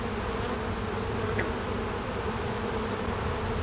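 Honey bees buzz steadily on a hive frame lifted during a varroa alcohol-wash inspection, a dense continuous drone close by and filling the whole stretch with no talk.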